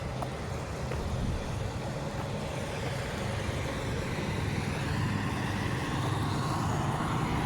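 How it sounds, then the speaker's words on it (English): A truck passes on a rainy road near an airport, its steady broadband engine and tire rumble holding loud and close throughout with no talking. "a truck going by."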